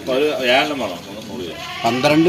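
Goats bleat in quick, wavering cries close by, a couple of calls overlapping in a short burst.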